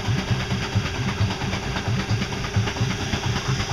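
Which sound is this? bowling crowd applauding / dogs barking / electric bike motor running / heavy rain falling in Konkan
electric bike motor running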